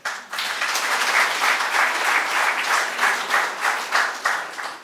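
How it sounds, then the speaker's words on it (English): Steady, loud applause from an audience at a crime-thriller book launch, continuous clapping filling the whole stretch without a break, no voices standing out. "let's applaud Neeta again"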